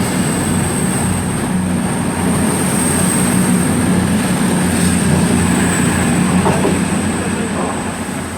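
A Class 158 diesel train rolls into Cheltenham Spa station, a loud, steady rumble of wheels and engine close by with a high whine running throughout, fading slightly as it slows.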